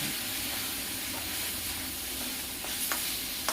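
Turmeric, coriander powder and Kashmiri red chilli sizzle in a pan as the masala fries for paneer bhurji; a steady hissing fry runs throughout, with a couple of sharp stirring clicks near the end.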